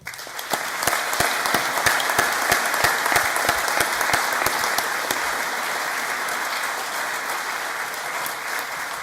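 Sustained applause from a graduation audience at an aviation and engineering college ceremony in Newcastle, dense and steady with sharper individual claps standing out near the start, continuing evenly to the end.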